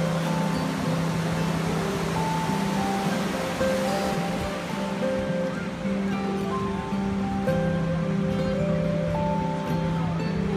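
Pacific Ocean surf on the Oregon coast, a steady broadband wash of waves rolling in continuously and fairly loud, with no distinct voices standing out.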